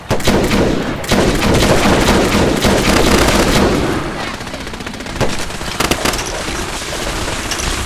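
Gunfire in the video game Fallout 4, rapid bursts of automatic shots and scattered single cracks, loud and continuous, thinning slightly in the later seconds.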